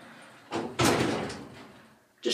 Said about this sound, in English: Now I'll let the doors close and we'll get our cab view.